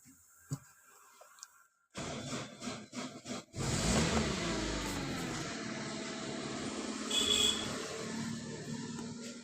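A vehicle engine starts after a brief quiet spell and then runs with a rough mechanical whir, a clutch release bearing noise showing while gears are checked, the engine note swelling and revving a little, close up.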